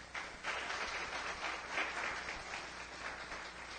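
A church congregation claps loudly and steadily together at a preaching service, the applause sustained and dense throughout, with no break.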